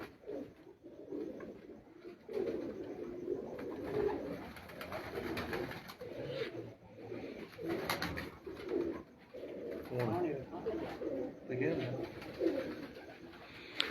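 Flying pigeons on a rooftop coo in soft, repeated rolling calls that overlap steadily, with people talking faintly in the background.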